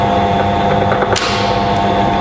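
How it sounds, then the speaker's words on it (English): A HAFCO Metalmaster BM-22AD turret milling machine runs with a steady motor hum and drill feed whine, and a short click marks the power feed cutting out at the depth stop before the hum carries on. "once this reaches here to your depth stop, which is set, it'll automatically cut the feed out"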